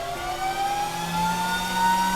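A Glowforge laser cutter runs loudly and steadily with a jet-like whir, tonal whines and a low hum holding throughout without a break.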